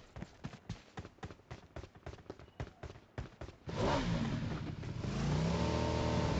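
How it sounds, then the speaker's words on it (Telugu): In the video game PUBG, a motorbike engine first gives a run of rapid rhythmic put-put pulses, then revs up into a steady, rising drone that holds loud to the end. "Ravindra. బైక్ తీసుకుని వెళ్దాం."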